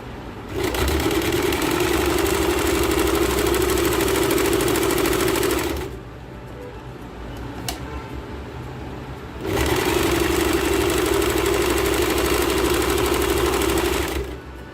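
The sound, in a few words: sewing machine stitching the palazzo fabric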